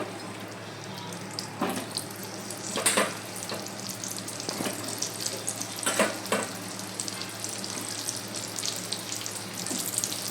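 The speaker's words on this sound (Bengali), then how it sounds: "তো লাল লাল করে পটলগুলোকে একটু ভেজে নেব" Pointed gourd (potol) fries in hot oil with a continuous close sizzle, punctuated by a few sharper crackles and scraping sounds as the pieces are moved about.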